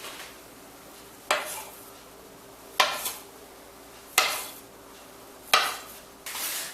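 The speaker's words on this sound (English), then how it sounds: "roll it into a long strip. And chop it into equal pieces" A knife chops a rolled strip of Ba-Wan dumpling dough into pieces, landing as five sharp, evenly spaced thuds on a board roughly every second and a half, close and clear, with no talking.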